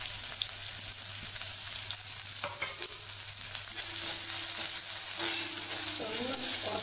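Sliced onion dropped into hot oil in a pan for a chutney, giving a steady close sizzle with occasional stirring scrapes, rising a little louder toward the end.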